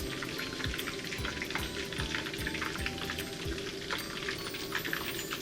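Meatballs with onion deep-fry in a pan of oil, a close, even bubbling crackle with rapid pops running steadily throughout.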